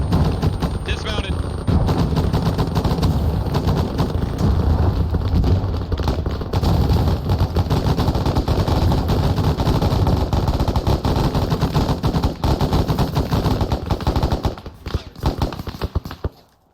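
Sustained automatic machine gun fire fills a military ambush training exercise, loud and continuous for most of the stretch with dense overlapping bursts before tapering off near the end.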